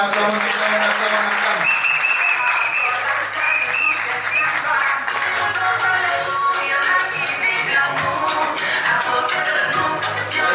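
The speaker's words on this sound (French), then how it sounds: "On acclame." Guests at a civil wedding clap in sustained applause that fills the space, loud and continuous, with music and crowd voices mixed in.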